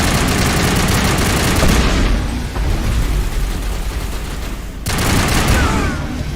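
Gunfire in a Mass Effect firefight: loud, dense bursts of automatic weapons fire and booming shots, a near-continuous barrage that eases briefly in the middle before erupting again, with no talking.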